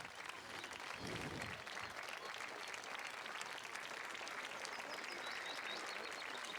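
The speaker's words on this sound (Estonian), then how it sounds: "Aplaus" An audience applauds at a school spring concert in a gymnasium hall, a thick sustained wash of many hands clapping at moderate distance, steady for the whole stretch with a brief low rumble early on.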